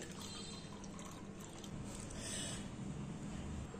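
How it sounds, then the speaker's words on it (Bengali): Malta orange sharbat being poured through a strainer, a steady wash of liquid splashing and trickling through the mesh, continuous and close for a few seconds with no talking. "একটা ছাঁকনিতে ঢেলে শরবতটা ছেঁকে নিচ্ছি।"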